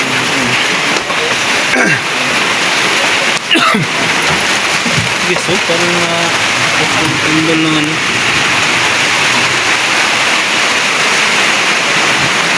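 Heavy rain pours down in a steady, dense hiss that fills the whole stretch, loud and close, while people talk and call out over it.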